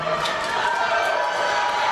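Crowd cheering at a youth swimming championship meet, a steady loud wash of voices and shouts filling the space, continuous and reverberant as from an indoor pool deck.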